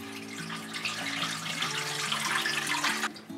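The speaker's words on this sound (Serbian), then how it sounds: "a zatim naliti vodom." Tap water runs into a large pot holding a head of cabbage, a steady close splashing rush with a faint musical tone beneath it that stops abruptly near the end.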